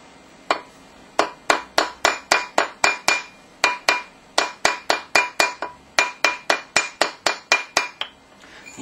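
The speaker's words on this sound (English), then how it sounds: "just tap that ring with a rawhide mallet as well" A rawhide mallet taps a metal ring to round it, over two dozen crisp knocks in quick bursts with brief pauses between groups, close and clear with no talking.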